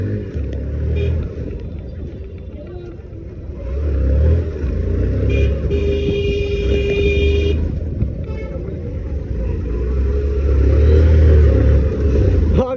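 A police car drives past on a street, its engine roaring and rising in a loud, continuous rush, with a brief tonal whine partway through, heard close up.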